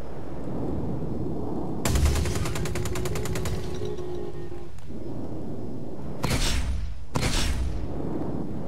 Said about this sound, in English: So, I want to shoot an asteroid.